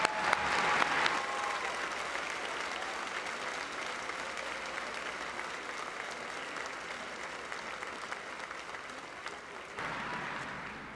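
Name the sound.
applause at graduation ceremony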